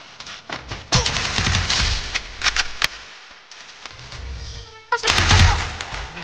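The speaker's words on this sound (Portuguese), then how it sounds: "Um tiro no Jordan." Sharp gunshots crack in short bursts and single pops against a noisy background, pausing briefly before another quick volley.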